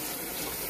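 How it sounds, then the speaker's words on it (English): Tap water runs steadily into a sink while a hand is rinsed, giving a continuous close hiss and splash with no voices. "sorry if you guys heard the water there. I just rinsed my hand off."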